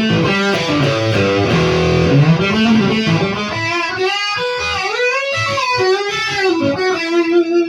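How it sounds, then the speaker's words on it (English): Distorted electric guitar with single-coil pickups played through the distortion channel of a Fender Frontman 25 amp, sustained bending notes and chords ringing continuously, fairly loud and up close, with no talking. "I'm playing through a Fender Frontman 25 right now with the distortion channel, which is horribly noisy."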